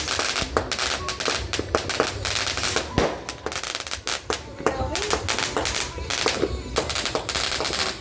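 New Year fireworks and firecrackers burst in rapid, crackling volleys, sharp loud pops and bangs stacking over one another nearby, with people's voices chattering underneath.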